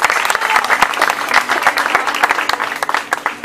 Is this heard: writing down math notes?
no